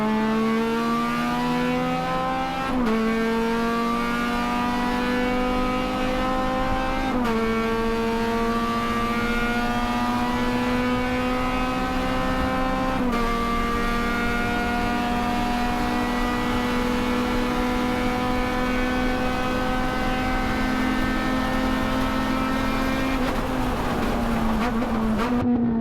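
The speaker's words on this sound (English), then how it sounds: "Kutil has had all weekend has been BMWs, and now he's got to fight through 2 of them to try and take it to that MX-5" Race cars including BMWs and a Mazda MX-5 racing at Road Atlanta, engines droning loud and steady with rising pitch sweeps as they accelerate and shift gears repeatedly, close and continuous without talk.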